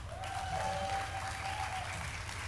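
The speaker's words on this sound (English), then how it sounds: "Can I get a hand clap for Salt and Pepper?" Audience hand clapping at a fashion talk event, a dense steady wash of applause filling the room for the whole stretch, with a faint tone and murmur underneath.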